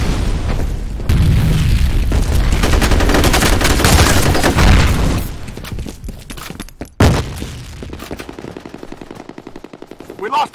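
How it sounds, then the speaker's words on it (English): Sustained rapid gunfire and heavy booms fill a chaotic firefight in the shooter game FEAR, with a grenade blast amid loud, dense shooting that thins out into scattered shots and a final sharp burst. "Fire in the hole! Grenade out!"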